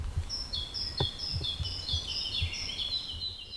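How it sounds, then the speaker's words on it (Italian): Small birds chirp and twitter in quick overlapping calls in quiet woods, with a few soft low thumps beneath and open air around them. "Nel silenzio del bosco si sentono solo gli uccellini cinguettare."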